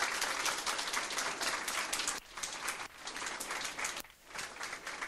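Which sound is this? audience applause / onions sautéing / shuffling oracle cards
audience applause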